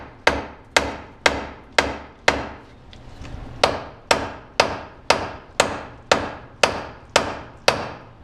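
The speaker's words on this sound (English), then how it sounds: "you gotta whack the hell out of the knuckle with the sledgehammer right here" A sledgehammer whacks a steering knuckle on a vehicle being set up for more steering angle, with about fourteen loud, sharp metallic blows in a steady rhythm, a brief pause midway, and no talking.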